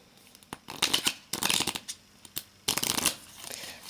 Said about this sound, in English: Let's try a little riffle shuffle.